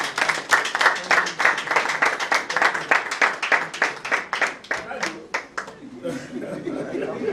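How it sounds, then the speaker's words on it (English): At a drama premiere, the audience claps in a steady, rhythmic unison beat. The clapping breaks apart and stops after about five seconds, leaving scattered laughter and chatter. "A big round of applause for them."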